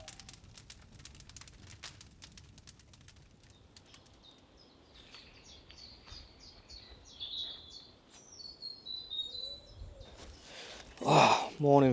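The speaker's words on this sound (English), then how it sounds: "Birds are singing." Birds chirping and singing in a chilly spring-like morning forest during a hammock camping overnight, scattered high calls over quiet ambience, with rustling and a person's heavy breath or sigh close up near the end.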